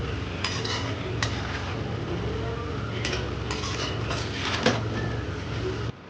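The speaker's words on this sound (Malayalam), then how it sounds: "നമ്മുടെ ഈ വറുത്ത് വെച്ചിരിക്കുന്ന ചെമ്മീൻ എടുത്ത് അതിൻ്റെ അകത്തോട്ട് ഇടുക" Fried prawns are tipped into pickle masala in a pan, giving scattered metallic clinks and scrapes of a spoon against cookware over a quiet steady background.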